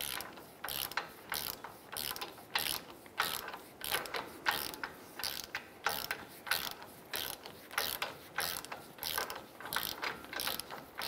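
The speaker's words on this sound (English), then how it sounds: "I'm going to go ahead and tighten our outer tie rod end nut." Ratchet tightening the outer tie rod end nut on a Ram 1500, a steady run of close, rhythmic clicking strokes repeating about once a second throughout.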